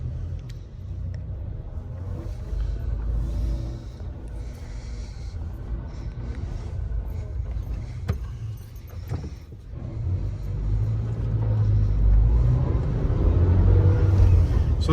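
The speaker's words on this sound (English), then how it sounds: "let's go for a little ride in the Toyota" A 2005 Toyota Tacoma pickup with a five-speed manual transmission heard from inside while driving, a steady low engine rumble with some rattling and clicks, the engine note rising toward the end.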